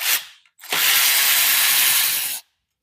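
A ratchet turning T15 screws on a 2008 BMW 650ci engine: a brief click, then a loud, close, continuous whirring ratchet buzz lasting about two seconds before it stops abruptly.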